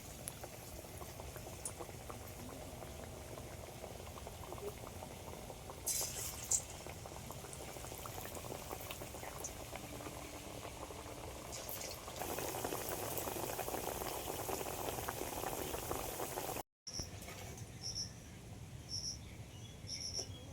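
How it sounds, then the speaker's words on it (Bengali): Raw banana chops fry in hot white oil in a kadai, a steady close sizzle and bubbling that swells louder midway before a brief cutout, with no voices. "এবার আমি চপগুলো ভেজে নেবো"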